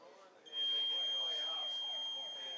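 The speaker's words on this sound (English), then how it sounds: "as the buzzer goes off" A loud, steady electronic buzzer sounds at a high school football game, a sustained tone lasting about two seconds under a commentator's voice and crowd noise.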